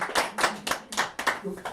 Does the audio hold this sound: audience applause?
yes